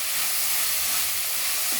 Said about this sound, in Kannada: ಈಗ ಇದನ್ನ ಸ್ವಲ್ಪ ನಾವು ಎಣ್ಣೆಯಲ್ಲಿ ಫ್ರೈ ಮಾಡ್ಕೋಬೇಕು